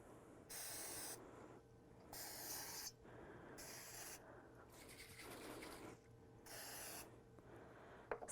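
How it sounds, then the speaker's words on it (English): Repeated bursts of aerosol spray hissing inside a metal flower pot, five or six short blasts with brief pauses between, close and fairly loud. "And you're just going to spray the inside."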